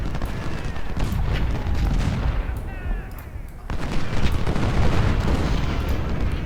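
Parrott guns and other artillery firing in a Civil War battle in Ultimate General: Civil War, a dense rumbling barrage of booms and cracks with a brief lull midway before resuming loudly.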